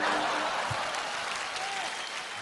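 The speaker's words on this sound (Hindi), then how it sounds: "मनीष पॉल के लिए जोरदार तालियां।" Studio audience applause at a televised Hindi comedy talk show, a steady dense wash of clapping from a full room lasting throughout, with a faint voice briefly underneath.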